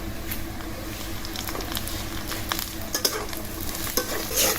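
Green chillies fry alongside browning onions in a pan, a close, steady sizzle with regular scraping and tapping of a spatula as everything is stirred, no voices present.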